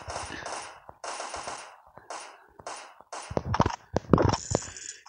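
Video game gunfire from a shooter, with sharp shots crackling in bursts from about 3.3 seconds on after a stretch of quieter broadband noise, loud and close, with no talk.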